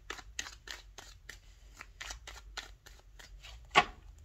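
Tarot cards being shuffled by hand, a quiet series of soft riffling and slapping flicks in an uneven rhythm, ending with a sharper snap.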